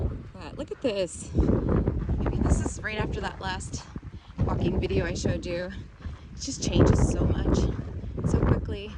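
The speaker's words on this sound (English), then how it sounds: "Apologize for the wind. It's gusting pretty hard up here." Strong wind gusts buffet the microphone high on a mountain along the Pacific Crest Trail, a constant rough roar under someone talking throughout.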